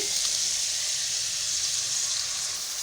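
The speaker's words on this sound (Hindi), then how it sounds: "इसको हल्का हल्का फ्राई करेंगे, इतना कि इसका कलर चेंज हो जाए" Small pieces of boneless chicken fry in a pan with a steady, dense hiss of sizzling oil that stays close and even throughout, with no talking.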